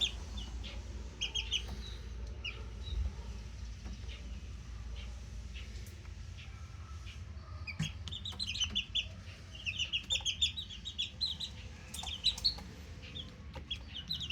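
Month-old gamefowl chicks peeping and clucking close by in a repeated series of short, high chirps that grow busier in the second half, over low background hum and occasional knocks, with no talking.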